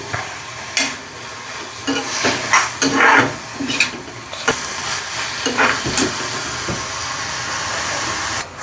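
Goat meat fries dry in a pan with no water, a steady close sizzle under repeated scraping and stirring strokes that come in uneven bursts.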